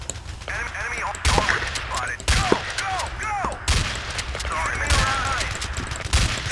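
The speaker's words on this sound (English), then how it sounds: "Shoot at them with the shotgun!" Shotgun fire in the video game Battlefield 2, with repeated loud blasts in bursts spread across the stretch, mixed with excited talking over the gameplay.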